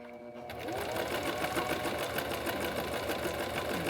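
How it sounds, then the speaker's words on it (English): A sewing machine back stitches at the start of a seam on a pleated face mask, running in a steady, close mechanical whir after a brief quiet moment. "So we start with the back stitching, so with the reverse, so we secure our beginning of our stitching."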